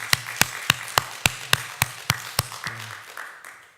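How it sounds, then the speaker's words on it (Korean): Slow, evenly spaced claps ring out about ten times in a church, sharp and loud with a slight room echo, then trail off into low murmuring. "한번 영광의 박수를 한번 하나님 앞에 올려드렸으면 좋겠습니다"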